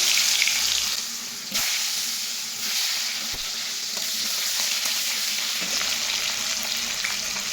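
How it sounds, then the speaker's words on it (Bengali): Cut potato pieces fry in plenty of hot oil, a loud, continuous close-up sizzle with occasional soft clicks of stirring and slight swells in intensity. "এখন কিন্তু এই তেলের মধ্যেই কেটে রাখা আলুগুলোকে ভেজে নেব।"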